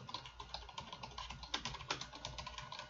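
Typing on a computer keyboard to enter a word into an internet search page, a steady run of close, crisp key clicks with no talk.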